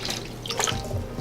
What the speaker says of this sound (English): You cover the chicken with water.